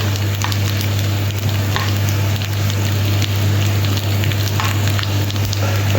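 Pistachios and almonds roast in a pan for pumpkin payasam, making a continuous close sizzling and crackling sound over a steady low hum.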